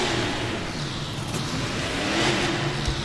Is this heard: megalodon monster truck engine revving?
yes